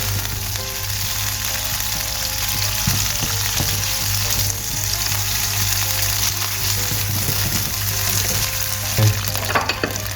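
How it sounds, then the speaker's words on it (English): Chorizo sizzles steadily in a hot pan as it cooks down and releases its oils, a constant close frying hiss with occasional light stirring scrapes and no talk. "I would cook this for a good 3 or 4 minutes to release all the oils out of the chorizo"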